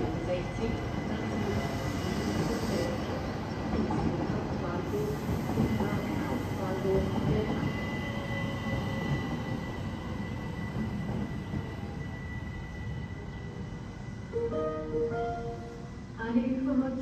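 Railjet Express train at Bregenz station, a steady loud rumble of rolling stock filling the platform throughout, with faint wheel squeal and a station announcement heard over it toward the end.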